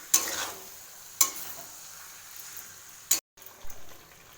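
Jaggery for a Bengali green chalta pickle is stirred slowly in a pan over a low gas flame, giving soft, sparse scraping strokes with a few brief clicks against a quiet background.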